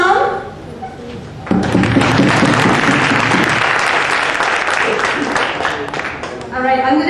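Audience applause welcoming participants from Assam at a children's gathering in Delhi, a dense sustained burst of clapping that swells in loudly after a quieter spoken stretch and carries on for several seconds before fading toward more talk.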